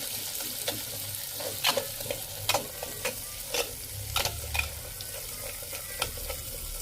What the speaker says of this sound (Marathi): मसाला टाकून घेऊ वाटण मस्त परतून घेऊ